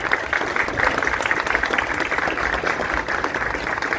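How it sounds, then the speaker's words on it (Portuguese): An audience at a museum cinema event applauds a flute performer, with steady, dense clapping throughout that carries on at an even level from start to finish. "eu queria pedir uma salva de palmas"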